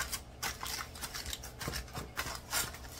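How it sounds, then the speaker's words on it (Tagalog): Aluminum foil is crinkled and pressed over a dish of mixed vegetables in a home kitchen, giving close, bursty rustling and crackling throughout with no one speaking. "All I gotta do is put some aluminum foil on the top of it"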